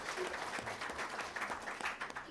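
A conference audience gives the Ministry of Public Procurement a round of applause, a dense, quiet wash of many hands clapping at some distance, steady for a couple of seconds.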